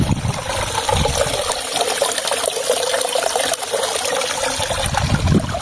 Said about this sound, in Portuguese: E esse é o córrego, o curso d'água que dá de fazer um açude